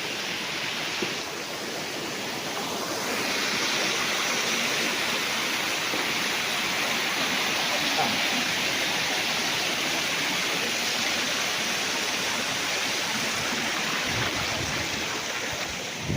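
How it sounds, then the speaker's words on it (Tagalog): Natural spring water flows steadily on a farm lot in Lucban, Quezon, a continuous broadband rush that stays even and fairly close for the whole stretch, with no voices. "Yan, may bukal pa dito."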